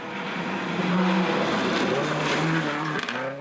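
A Hyundai Cordia V8 rally car drives through forest stage kinks, its engine note rising and falling as it passes fairly close, loud and continuous.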